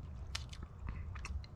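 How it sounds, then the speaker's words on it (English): Dry prison bread is bitten and chewed, giving a few sharp crunchy bites and mouth noises, close and quiet, with no talking. "Let's have a taste of this prison bread."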